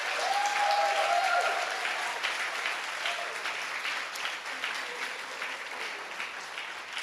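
Audience applause at the Ake Festival 2019 welcome ceremony, a sustained dense wash of clapping from a large crowd that stays steady and loud for the whole stretch.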